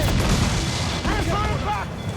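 Naval cannon fire during a sea battle in Assassin's Creed 4 Black Flag, heavy low booms rumbling under shouted crew voices, dense and close throughout the short burst.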